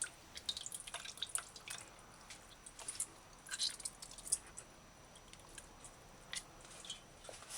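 Rinsed raw chicken is squeezed by hand to press out the water, giving faint, scattered wet drips and soft squishes in a quiet space, with no talking.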